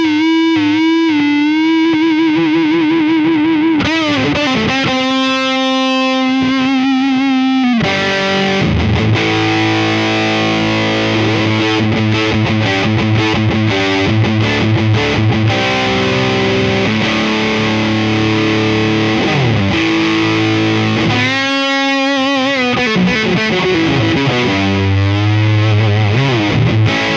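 An electric guitar through a ToadWorks John Bull British overdrive pedal plays loud, gritty chords and sustained notes with thick distortion, continuing steadily without any talking.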